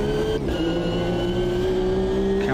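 The engine of a Lotus race car in the Automobilista 2 racing game revs loud and steady close by, with a smooth whine that climbs in pitch and holds as power comes on. No voices can be heard.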